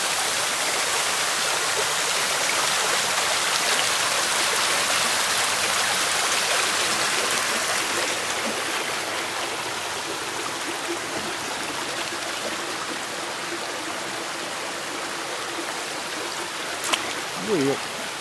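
Water rushes and babbles continuously, a steady broadband flow close by, with a faint voice briefly near the end.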